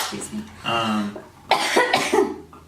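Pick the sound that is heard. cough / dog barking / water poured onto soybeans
cough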